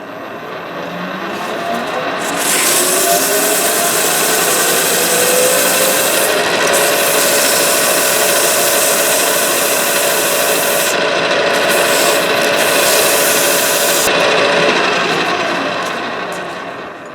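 Sustained, loud abrasive rasp of a metal branding iron being sanded, a continuous gritty whir that ramps up, holds steady for over ten seconds, then fades.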